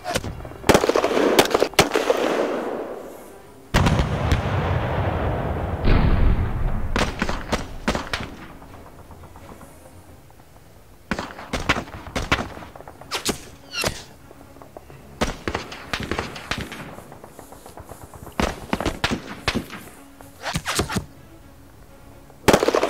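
Bursts of gunfire and explosive thuds from the WWII wargame Panzer Campaigns Scheldt '44, sharp cracks and rattling volleys arriving in irregular clusters, loud at first and then thinner, scattered shots at a steady mid distance.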